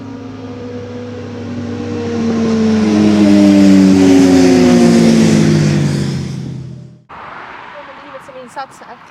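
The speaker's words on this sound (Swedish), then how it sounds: "Nu kommer motorcyklar i full fräs här." Motorcycles race past at full throttle on a narrow street, a loud engine roar that swells over several seconds with a falling pitch sweep, then cuts away to quieter street ambience.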